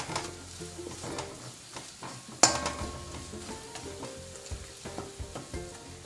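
Crushed chili powder and dried red chilies frying in a pan for jackfruit curry, a steady soft sizzle with stirring scrapes and a sharp clink of a spoon or pan partway through.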